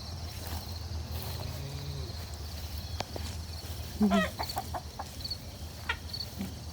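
Short bursts of chicken clucking sound close by amid steady outdoor background noise on a small farm, with a few scattered calls following.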